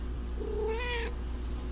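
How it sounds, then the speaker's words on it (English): Cat in a workshop giving a single short rising-and-falling meow, close and clear over a steady low hum. "Shop cat Archie"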